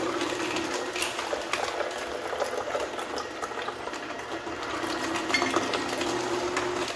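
A juicer grinds almonds and water into almond milk, a steady dense mechanical whir with a rattling, gritty texture running throughout at a fairly constant level.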